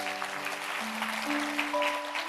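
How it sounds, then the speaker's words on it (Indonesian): A church congregation applauds for God, a steady wash of many hands clapping together over sustained organ or keyboard tones, without talk. "Mau beri tepuk tangan kepada Tuhan."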